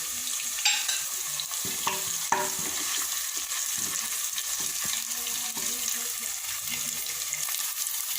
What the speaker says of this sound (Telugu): పచ్చి వాసన పోయేంత వరకు ఫ్రై చేద్దాం.